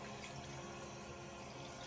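Water streams steadily from a sink tap while a wig is washed under cool, lukewarm flow, a close, continuous hiss and splash with no pauses.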